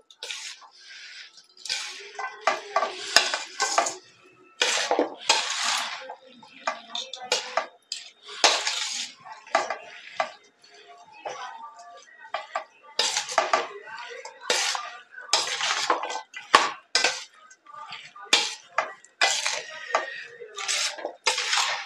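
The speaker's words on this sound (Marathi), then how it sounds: "तेल टाकले, जरा मिक्स करून घेऊ." Ginger, green chilli, garlic and fresh turmeric pickle mixed with oil, heard as repeated close clinks and scrapes of a spoon against a metal vessel in irregular bursts with short pauses.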